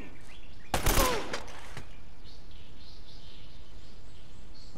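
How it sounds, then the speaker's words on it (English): A brief burst of rapid gunfire from a shooter in Uncharted on PS4, near a plane wreck, cracks out at about the one-second mark, then dies away to a quiet bed of ambient noise with faint bird-like chirps. "And I don't know who's shooting at me."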